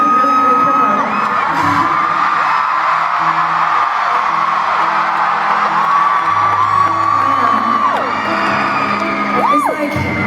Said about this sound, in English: This is a really great crowd.